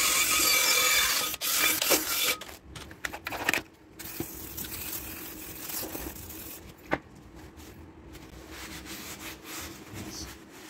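An old, grimy Land Rover Series 2a wheel cylinder being cleaned by hand, giving scratchy rubbing and scraping strokes, busy at first and then sparser with occasional knocks, no talking.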